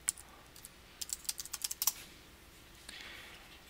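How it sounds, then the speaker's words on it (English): Quick keystrokes on a computer keyboard as a web address is entered, about ten taps in a rapid run after a few scattered presses, close and quiet. "go in and type gis.columbia"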